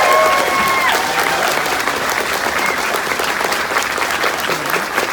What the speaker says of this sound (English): And one more time, round of applause.